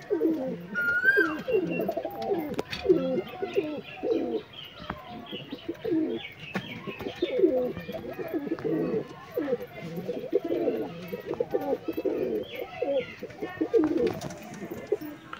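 Madras pigeons at a loft in Kolkata coo steadily in repeated low, rolling phrases, close and fairly loud, with occasional chirps and a brief wing flutter mixed in.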